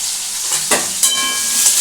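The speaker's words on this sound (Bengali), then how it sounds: "এবার এটাকে আমি একটু ভালো করে নাড়াচাড়া করে একটু ভাজছি।" Potatoes frying in a pan for chhanar dalna, with a steady close sizzle and a few sharp scraping clicks as they are stirred around, briefly and without any talk.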